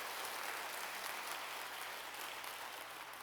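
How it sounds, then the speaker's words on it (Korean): A church congregation claps to welcome a new pastor, a broad, even roar of many hands heard steadily throughout, with a faint low hum underneath. "여러분 크게 박수로 환영하시지요"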